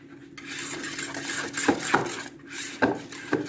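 A utensil scrapes and rubs against a bowl as chocolate is stirred into hot cream to melt for macaron filling. The strokes are soft and close, with a few sharper knocks at uneven intervals.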